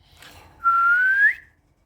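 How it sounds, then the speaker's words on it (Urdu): A parrot gives a single clear, rising whistle lasting under a second, close and loud, with a faint chirp just before it. "سیٹی مارو، سیٹی، وسل وسل سیٹی"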